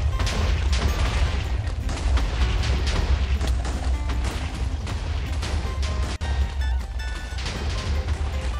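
Minecraft explosions in a Nether netherite-mining session: a dense run of heavy blasts and crashing booms with a rumbling low end, loud and continuous, with one sharp break near the end.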